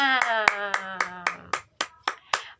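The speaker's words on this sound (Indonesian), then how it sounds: "Tepuk tangan untuk kita semua." In a classroom teaching session, a voice sings or chants briefly, then sharp, evenly spaced hand claps follow in a quick, steady patterned rhythm, about ten distinct claps close by.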